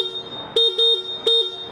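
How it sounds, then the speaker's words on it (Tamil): A Hero Xoom XT scooter horn gives three short, loud, steady beeps at close range, with a brief gap between the first two and a longer pause before the third. "பட் இந்த வண்டியில் வந்து நல்லா பைக் ஹாரன் மாதிரி இருக்குது"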